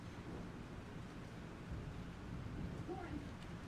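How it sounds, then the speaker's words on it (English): A thunderstorm in the video game Life is Strange gives a continuous low rumble with rushing rain and wind, steady and fairly quiet throughout. "This storm is real."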